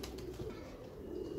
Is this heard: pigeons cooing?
yes